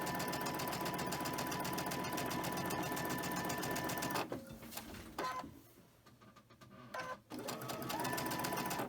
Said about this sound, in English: you're going to chain stitch them again